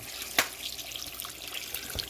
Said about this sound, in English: I'm going to add some water because it's not soft to the extent that I want it